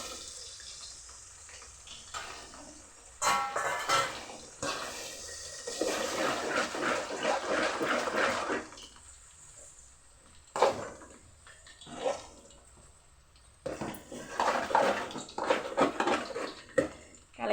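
Six eggs poured into a pan of sautéed ingredients while cooking chicken rice, then stirred in: wet pouring, scraping and clattering come in uneven bursts with pauses between, close and fairly loud, no voices.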